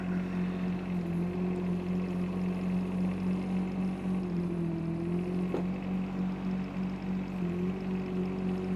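A Shanding mini excavator, a copy of the Kubota U10, runs at full revs with a steady droning engine hum that holds even throughout, dipping briefly about halfway, heard at moderate distance with no talking.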